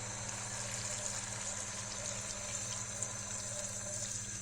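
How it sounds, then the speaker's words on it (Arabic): Water pouring into a cooking pot with salt, a steady continuous gushing rush with a low hum beneath, close and unbroken throughout. "ونديروا الماء."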